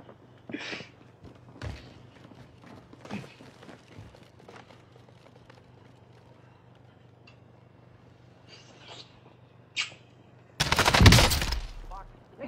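DMR rifle fire in the video game Rebirth: a few scattered sharp shots amid footsteps and light movement, then a loud close burst of gunfire near the end, with voices talking at times.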